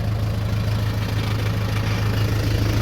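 A Mahindra tractor engine idles close by with a steady low rumble and an even, unbroken drone. Nobody speaks.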